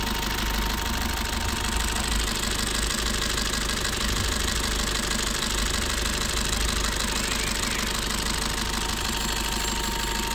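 A 2017 Maruti Breeza ZDI Plus diesel engine idles steadily and loudly, a continuous rattly diesel clatter with no break throughout.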